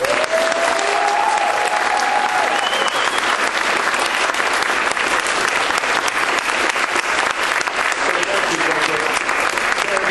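Sustained audience applause fills a room at a community advisory council meeting, loud and steady throughout with dense clapping from a crowd and a few brief overlapping voices.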